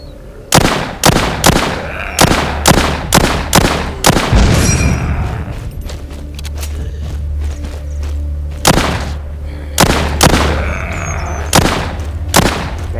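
Gunfire from The Walking Zombie 2 video game: a rapid string of loud, sharp shots, a heavy booming blast around the middle with a rumbling tail, then more spaced bursts of shots, all close with no talking.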